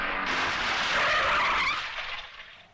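A car skids hard to a halt in a Hindi comedy film scene, with a loud, sustained tire-screeching hiss that fades out as the vehicle stops.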